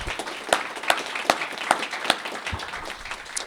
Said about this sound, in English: we get to clap and thank and applaud